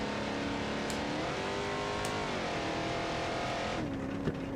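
Car engine in a racing video game, the car overheating with damaged steering, whines steadily and close, pitch stepping up and down through gear changes with no voices.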